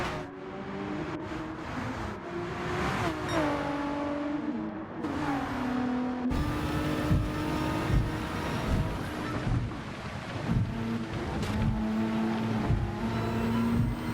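Porsche race car engine in a sim racing game, revving and shifting gears as it accelerates, with rising and falling tones and a loud, continuous drone under the wind-like rush of the car.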